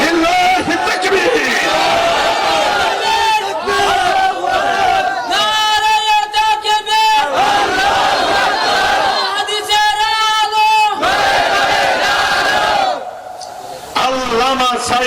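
A large crowd at an open-air Islamic religious gathering in Cox's Bazar shouts takbir in unison with raised hands, loud massed voices rising in repeated bursts over music-like tonal chanting.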